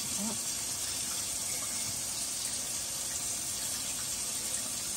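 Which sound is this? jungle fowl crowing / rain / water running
water running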